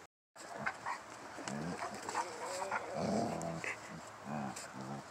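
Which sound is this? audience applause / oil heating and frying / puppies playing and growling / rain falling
puppies playing and growling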